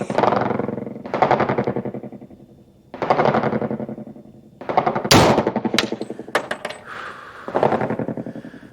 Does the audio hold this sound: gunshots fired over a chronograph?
yes